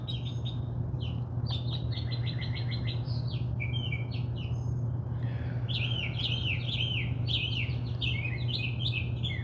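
Several birds chirp and tweet in clear bursts of song, some close and some a little farther off, over a steady low hum, with no talking.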